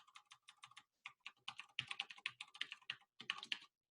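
Quick bursts of typing on a computer keyboard, crisp close key clicks in uneven runs with short pauses between them, nobody speaking.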